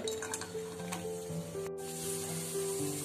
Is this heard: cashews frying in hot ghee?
yes